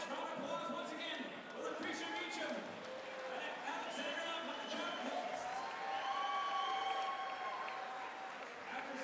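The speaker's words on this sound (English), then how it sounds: "how about a nice round of applause once again for Lucretia Meacham and Alexandra Lopes" Arena crowd at a boxing event claps and cheers steadily for two fighters after the final bell, a dense, continuous roar of applause with shouts and whistles throughout.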